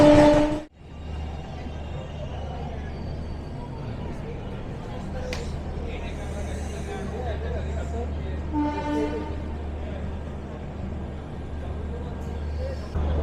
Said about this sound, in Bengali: আমাদের ট্রেন তার 16 নম্বর হল্টে এসে পৌঁছালো